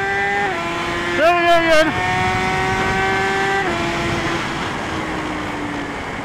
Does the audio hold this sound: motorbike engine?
yes